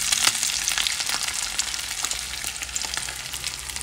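Salted meat, shaped into a heart, sizzles steadily in a pan, a loud close frying hiss with scattered pops and crackles and no talking.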